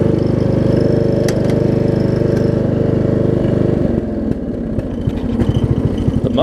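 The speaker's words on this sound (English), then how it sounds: "The motor runs really good though." A Craftsman riding lawn mower's engine runs loud and close at a steady, throbbing idle, then the pitch drops and the beat turns slower and more uneven as it winds down.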